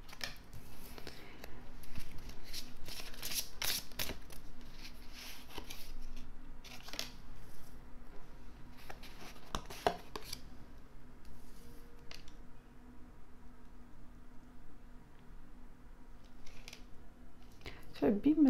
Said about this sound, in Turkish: Siz de ben kartlarımı kararken içinizden niyetinizi, sorunuzu geçirebilirsiniz.